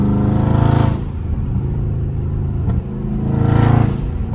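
A Dodge Charger Scat Pack in sport mode revs hard while driving, its engine note swelling loudly twice with a steady lower drone between the surges.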